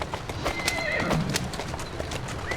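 A horse whinnies in Assassin's Creed Syndicate amid a brisk clatter of hooves, with sharp repeated clip-clop strikes up close and faint background sounds.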